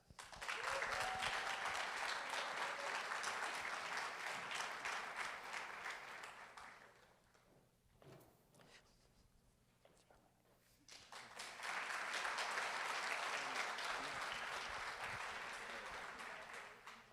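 Applause for graduates and their families at the Latinx Achievement Ceremony at Virginia Commonwealth University: a sustained burst of crowd clapping fades to a quieter lull with brief talk, then swells into a second full round of applause.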